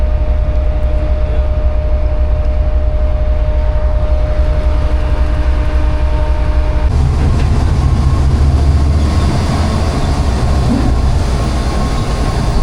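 Passenger train on the Karachi to Lahore run, Pakistan, rumbling with steady wheel-on-rail noise and a sustained tonal hum, the low rumble growing heavier and rougher partway through as the cars roll on; no talking.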